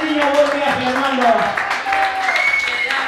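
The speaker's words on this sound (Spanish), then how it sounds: "¡Aplauso para los niños!" Applause and clapping from a festival audience cheering children at a salsa event, brief and moderately loud, mixed with a voice calling out over it.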